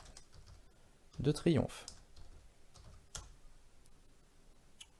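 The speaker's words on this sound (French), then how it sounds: "je rouvre une autre page, et je tape hauteur, Arc" A Google search is typed on a computer keyboard as a few sparse, faint key taps after a brief stretch of French speech.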